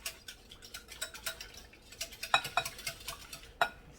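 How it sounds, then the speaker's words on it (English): Eggs and milk being whisked together in a bowl for homemade banana pudding, a steady run of quick, light clicking taps with a few sharper clinks, close and moderately quiet, with no talking. "to these eggs, we're going to add a 1/2 cup of milk. Let's go ahead and whisk it in"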